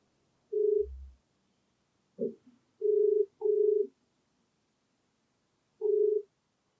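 A telephone ringback tone sounds while a call is being placed, with several short evenly spaced beeps separated by silence, clear and isolated.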